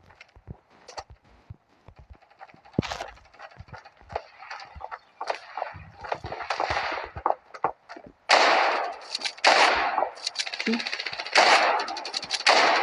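Gunfire in the mobile shooter game Standoff 2, including sniper fire: scattered sharp shots and clicks, then a denser burst of rapid loud firing in the second half, with no talk.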